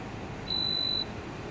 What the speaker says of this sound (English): The beep signifies that it was a successful scan.